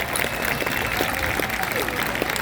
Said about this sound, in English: Let's give one more round of applause for our two Champion Award winners.